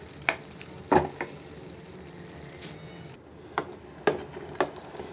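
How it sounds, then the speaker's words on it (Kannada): Cooked greens hit hot oil for tempering in a pressure cooker, giving a faint sizzle beneath sharp, scattered clicks and spattering pops that come in uneven bursts. "ಇಲ್ಲಿ ಸೊಪ್ಪನ್ನು ಒಗ್ಗರಣೆ ಹಾಕ್ತಾಯಿದ್ದೀನಿ"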